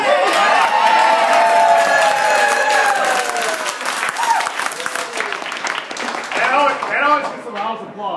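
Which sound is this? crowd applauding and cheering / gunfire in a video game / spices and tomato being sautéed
crowd applauding and cheering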